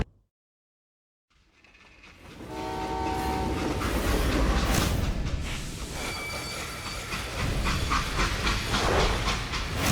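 A steam-era freight train in the video game Call of Juarez: Gunslinger rumbles in after a silent start, with a long horn blast, rhythmic clickety-clack of wagons and hissing steam building to a loud, continuous roar.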